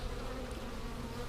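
Honeybees from a swarm hum in a steady, close, continuous buzz that holds at an even level throughout.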